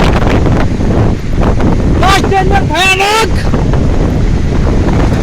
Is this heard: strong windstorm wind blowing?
yes